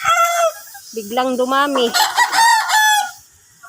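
Chickens and roosters in their coops crowing and clucking, several overlapping loud calls close by in quick succession, with a brief spoken phrase at the start.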